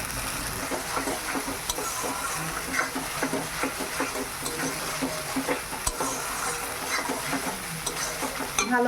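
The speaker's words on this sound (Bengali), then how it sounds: "পেঁয়াজটা ভেজে নিয়েছি এবার লঙ্কা সরষে জিরে দিয়ে দিলাম আর একটু হলুদ দিয়েছি" Onions frying in a pan with chili, mustard seeds, cumin and a little turmeric, giving a continuous crackling sizzle with frequent scraping stirs and small spattering pops at moderate volume.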